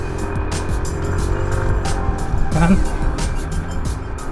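A 2023 Yamaha NMAX 155 ABS motor scooter on a test ride, its engine droning steadily with road and wind noise throughout, while someone talks over it.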